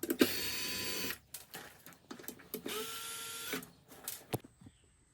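A power driver backs screws out of the case of a Vatrer Power 12.8V 460Ah RV lithium battery, giving two long, loud whirring bursts followed by shorter, fainter spins and clicks at close range.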